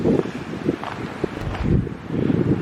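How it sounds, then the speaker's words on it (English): Wind blows through Huron Natural Park in Kitchener, Ontario, as gusty, rumbling buffeting on the microphone with a soft rustle, rising and falling in loudness over a few seconds. "I'm going to try to talk a little louder when the wind's blowing, as it is right now."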